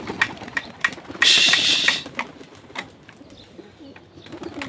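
Male pigeons are let out to fly, with a burst of flapping wings followed by scattered sharp clicks and light fluttering as the birds move off.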